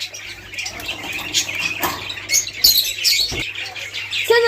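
Several short bird chirps and squeaky calls from a bird with an eye-ring disease, close and intermittent, over a faint steady hum.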